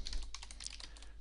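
Rapid clicking keystrokes on a German-layout computer keyboard, close and moderately loud, a quick irregular burst of taps over a low hum.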